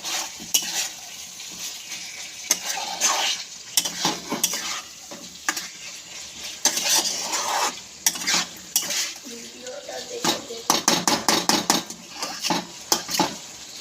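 Chicken stir-fried with pre-fried potatoes in a pan, loud sizzling broken by rapid metallic scrapes and clinks of a spatula tossing the pieces, ending in a quick burst of stirring, no talking.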